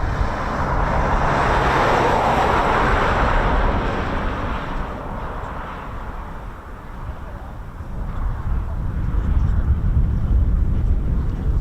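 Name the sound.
Embraer ERJ145 jet aircraft climbing after takeoff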